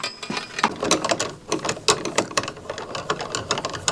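A 2.5 mm Allen key turns a screw while a Prusa XL 3D printer is being upgraded to five toolheads, giving close, loud, rapid clicking and ratcheting in uneven bursts.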